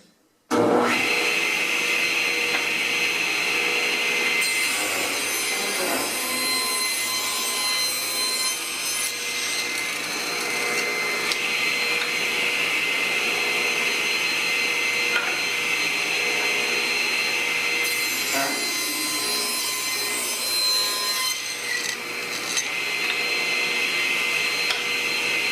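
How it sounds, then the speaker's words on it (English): Table saw ripping a board lengthwise into 1 1/4 inch strips in a woodshop, a loud sustained whine of the blade cutting steadily through the wood for over twenty seconds, no talking. "rip this board into 1 1/4 inch wide."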